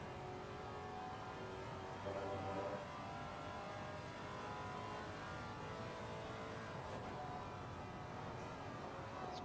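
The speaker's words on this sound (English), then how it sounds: "It does have a nice V8 roar, especially going down the gears as Boofy is wrestling that car" A Maserati GT4 race car with a V8 engine drones at a steady, fairly quiet distance around a mountain racing circuit during a 12-hour endurance event, its engine note holding and shifting as it works through the gears.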